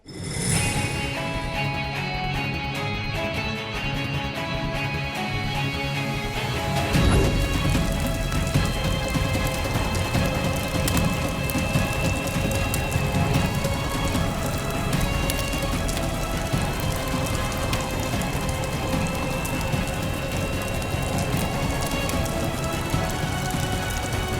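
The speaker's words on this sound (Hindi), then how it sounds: "ऋतिक, मौसम ठीक नहीं लग रहा है, तेज तूफान आने वाला है।" Heavy rain pours steadily before a storm, a dense continuous downpour drumming on surfaces, loud and close throughout with a deeper rumble joining partway in, with no voices.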